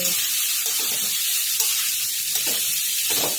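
Spiny gourd (kankoda) pieces sizzle in a pan of oil with roasted garlic, a soft steady frying hiss broken by brief stirring scrapes, close and moderately quiet.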